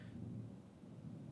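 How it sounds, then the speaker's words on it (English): Low rumbling thunder from a thunderstorm outside, a faint steady roll heard from indoors, muffled and distant with no speech over it. "there's a thunderstorm outside"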